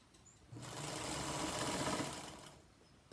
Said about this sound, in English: all I'm going to do with my right sides together is sew a background and a colored square together